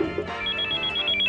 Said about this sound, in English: Whose cell phone? I warned you, no cell phones.